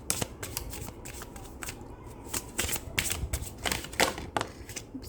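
Tarot cards picked out and handled close up, a quick string of crisp flicks, slides and snaps as the cards are shuffled and drawn.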